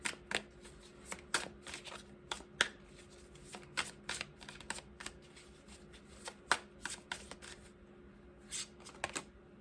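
Tarot cards are shuffled by hand, a string of quick, crisp riffling bursts in an uneven rhythm, close and clear, with short pauses between shuffles and no talking.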